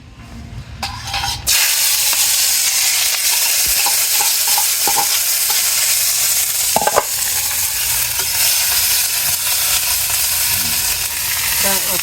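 Onions frying in a pan give a loud, dense, continuous sizzle that starts abruptly after a quiet moment, with occasional utensil clinks and scrapes on top, close to the listener and without speech.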